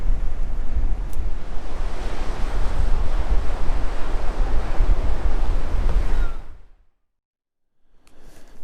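Ocean surf rolling onto the beach at La Push, a steady loud wash of breaking waves with wind buffeting the microphone, cutting to near silence near the end before faint sound returns.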